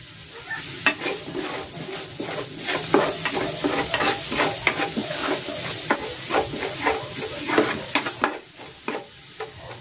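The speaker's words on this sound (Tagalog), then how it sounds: "Magigisa na ako ng bawang. At ng sibuyas." Garlic and onion sauté in a pan for chicken leg hamonado: a constant close sizzle broken by frequent rhythmic scrapes and clicks of stirring, with no talking.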